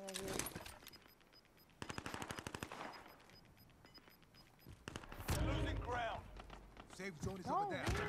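Automatic gunfire in the Call of Duty Cold War Warzone video game, rapid bursts of shots repeating in several volleys, with talk and other game noise around them.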